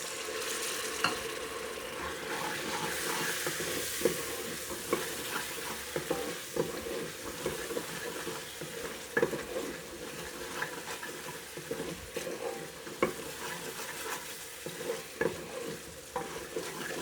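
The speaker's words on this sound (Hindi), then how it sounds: "मसाले को हम भून रहे हैं।" Masala fries and is stirred continuously for a village-style moong dal, a steady close sizzle broken by frequent clinks and scrapes of a spoon against the pot.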